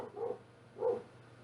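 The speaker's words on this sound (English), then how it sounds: "You can hear the dog in the background." Out in the neighborhood, a dog barks twice somewhere in the background, muffled and fairly faint, with a short pause between the two barks.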